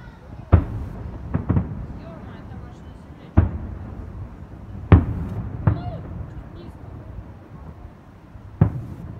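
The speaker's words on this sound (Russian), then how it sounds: "Вот это вот красный салют." Red fireworks salute bursting during a City Day celebration in Stupino, with several separate booming explosions spaced a few seconds apart, each one echoing and fading, while people talk nearby.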